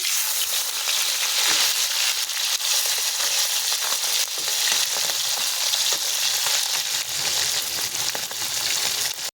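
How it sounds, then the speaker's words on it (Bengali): Pieces of fish are turned over while they fry in a wok of hot oil, giving a constant loud sizzle with scraping and stirring mixed in and no voices. "মাছগুলোকে এখন আমি উল্টে পাল্টে ভালো করে ভেজে নেব।"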